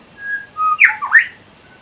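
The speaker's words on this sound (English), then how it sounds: "the birds are just calling and calling" Birds call just outside on a veranda, a few clear whistled notes followed by a couple of louder squawking calls, close and distinct against quiet, with no talking.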